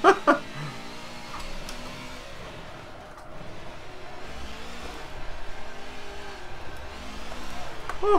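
Rear tyres spin and squeal on a tail-happy car in Forza Motorsport 7, played with a TX race wheel, as the engine revs and drones under continuous squealing, with a voice talking over it.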